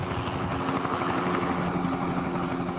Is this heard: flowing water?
no